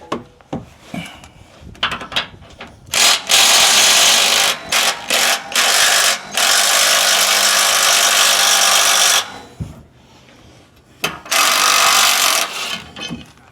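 Power tool, likely an impact driver, backing a bolt out of a Ford Bronco gas tank bracket: loud, close whirring and rattling bursts, a long sustained run in the middle, short stuttering pulses around it.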